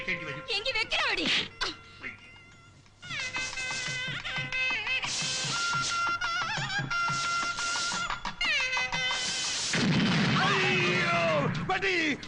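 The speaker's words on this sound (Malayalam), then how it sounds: "വെടിവെച്ചതല്ല, കതിനെ പൊട്ടിയതാ." A kathina, a ceremonial firecracker, bursts with a loud boom amid a busy mix of film music and voices, followed by a sustained noisy rumble.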